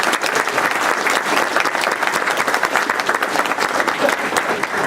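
A dense, sustained burst of audience applause for the mayor at a seniors' trip luncheon, many hands clapping evenly and filling the room without pause.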